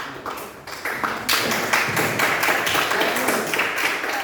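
A small group in a classroom learning network cabling claps hands, a dense, close, uneven burst of clapping that swells after a quieter start and carries on steadily.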